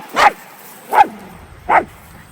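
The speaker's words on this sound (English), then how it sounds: "Why are we barking at the neighbors?" Dogs barking close by: three sharp, evenly spaced barks about three-quarters of a second apart, loud and clear with no talk over them.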